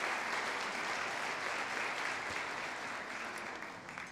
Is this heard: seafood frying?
no